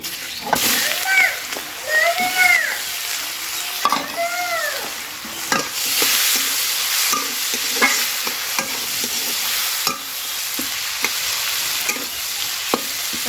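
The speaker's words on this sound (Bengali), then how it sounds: "এবার তেলে আমি পেঁয়াজ কুচিটা দিয়ে দিব" Chopped onion hits hot leftover fish-frying oil in a wok, giving a loud, close spattering sizzle with repeated stirring scrapes while a voice talks over it.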